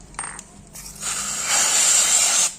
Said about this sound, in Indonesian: Kita coba semprot dulu aja